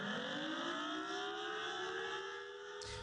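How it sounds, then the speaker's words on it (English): Outdoor civil defense siren sounding steadily during a monthly test in Champaign County, a sustained wailing tone at moderate distance that holds for a few seconds before a faint rustle near the end. "The EMA did its monthly outdoor siren test today."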